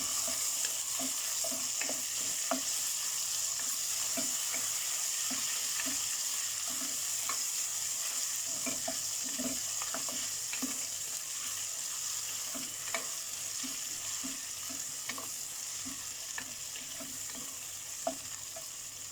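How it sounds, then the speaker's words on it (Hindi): Onion with ginger garlic paste frying in a pan, a steady close sizzle with soft stirring scrapes and clicks running throughout, no voices. "अब इसे थोड़ा फ्राई करना होगा।"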